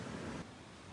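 Cold alpine snow-runoff river rushing steadily nearby, a broad continuous wash of flowing water, louder at first then settling to an even roar, with no voices.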